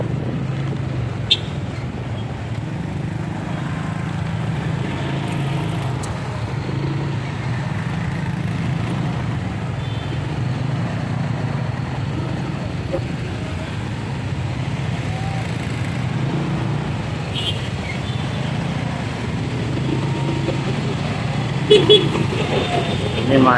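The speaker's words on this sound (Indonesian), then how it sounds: "Ini macet jam makan siang dan waktu pulang." Lunchtime traffic jam on a road in Artha Gading under an overcast sky: a steady, dense low rumble of idling and creeping vehicles continues throughout, with a few brief horn toots near the end.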